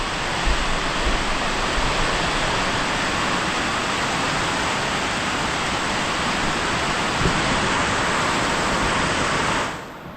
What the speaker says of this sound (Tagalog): Grabe sa lakas ng ulan.